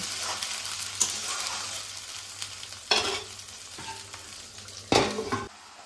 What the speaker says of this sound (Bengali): এখন এই মশলাটা একটু আমি ঢেকে ঢেকে রান্না করে নেব।